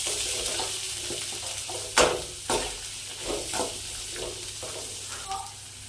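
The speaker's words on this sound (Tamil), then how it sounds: "மீடியம் சைஸ் வெங்காயத்தை போட்டுக்கலாம் போட்டு நல்லா வதக்கிடலாம்" Medium-sized onions sautéing in a pan for a chutney, a soft continuous sizzle broken by several sharp scrapes and clatters of stirring.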